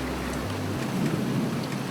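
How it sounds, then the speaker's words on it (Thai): Rain pours in a Roblox desert driving game, a steady hiss of falling drops over a low rumble that cuts off partway, with faint thunder-like swells and no voices. "โอ้ ฝนตก"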